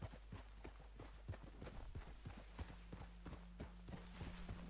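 In Red Dead Redemption 2, horse hooves clip-clop in a steady, quick rhythm, close and fairly quiet over a low constant game hum, with no speech.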